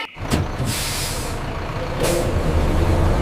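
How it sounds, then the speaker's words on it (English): A bus releases its air brakes in two loud, sharp hisses about two seconds apart, with a rumbling idle engine underneath and no voices. "B for bus"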